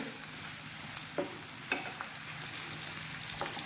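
Five or six chopped cashews cook in a restaurant-style shahi paneer curry, heard as a soft, even sizzle with a few faint taps and scrapes of a stirring spoon.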